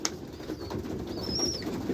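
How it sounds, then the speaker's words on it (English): A white pigeon in a loft gives soft cooing calls with faint chirps under low background hum. "lovely pigeon"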